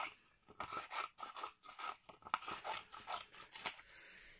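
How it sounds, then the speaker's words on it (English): Scissors snip through paper in a quick run of close, crisp cuts, each a short rasping slice with small pauses between, faint and alone. "I'm just doing it with scissors."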